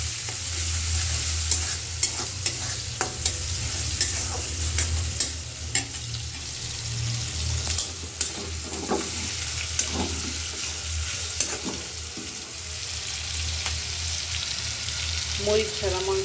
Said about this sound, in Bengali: তো আমার পেঁয়াজটা ভাজা ভাজা হয়ে গেছে।